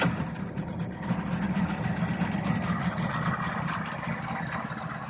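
A 50 HP Tohatsu two-stroke outboard motor on a boat at a lake runs steadily at a fast, buzzy idle, close and loud, with a rough low rumble and no voices.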